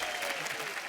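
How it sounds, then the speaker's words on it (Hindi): A studio audience at a comedy show claps in a brief, dense burst of applause. "तालियां भाई।"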